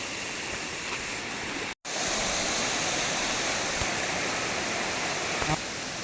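Poolakkundu waterfall roaring as a steady, dense rush of falling water, loud and continuous, with one brief dropout partway through and no voices.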